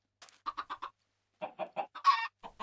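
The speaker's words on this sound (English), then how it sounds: "I got a chicken!" Chicken in a video game clucking in two short bursts of rapid, evenly spaced clucks with a brief pause between them, close and clear with no talk.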